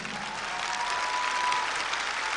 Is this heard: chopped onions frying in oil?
no